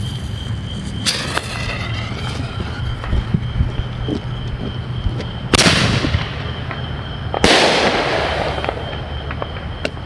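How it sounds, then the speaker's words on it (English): Chameleon firework shells bursting at a July 4th home display, with three sharp broadband booms spaced a few seconds apart, each followed by a crackling, fading tail over steady outdoor background noise. "let's do another one of those chameleon shells."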